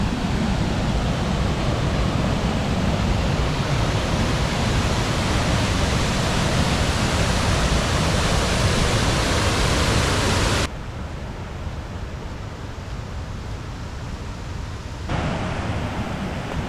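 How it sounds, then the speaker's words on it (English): Waterfall cascade in Teesdale, a loud, steady broadband rush of falling water that runs unbroken throughout, dipping slightly in level partway through before rising again, with no voices. "Just one gorgeous cascade after another."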